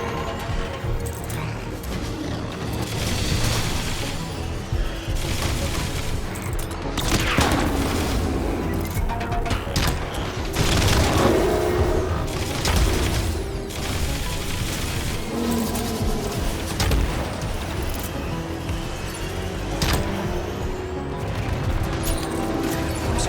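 In the Iron Man VR video game, incoming missiles are shot down amid a dense, continuous barrage of blasts, crashes and mechanical clatter, with sharper explosive bursts rising out of the din.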